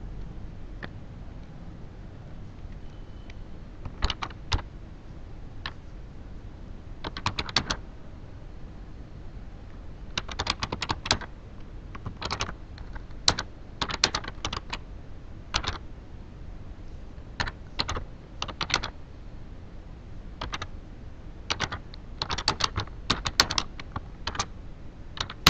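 Computer keyboard keys are tapped in scattered bursts while a bulk SMS message is typed, crisp close clicks with pauses between runs and no talk.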